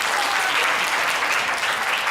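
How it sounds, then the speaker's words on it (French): A studio audience applauds children at a televised show finale, a dense, continuous and loud wash of clapping that holds steady throughout without any voices breaking through. "On va les applaudir très très fort."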